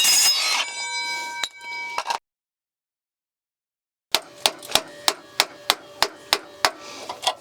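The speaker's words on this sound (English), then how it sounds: "I'm gonna use a hammer and a screwdriver to try and knock it out this way." After a brief clatter and a pause, a hammer strikes a screwdriver about a dozen times in a quick, steady rhythm, sharp and close, knocking out a GM Silverado/Sierra parking brake cable.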